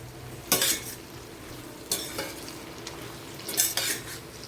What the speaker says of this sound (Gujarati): બધું આપણે મિક્સ કરી દઈશું અને ગેસની ફ્લેમ મીડિયમ જ રાખીશું.